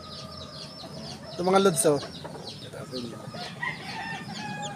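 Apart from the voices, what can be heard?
newborn Sweater raptor chicks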